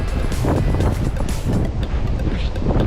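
Strong gusting wind at a seaside fishing spot near the Yeongdo maritime museum in Busan, roaring heavily and continuously across the microphone as a loud, low buffeting rumble.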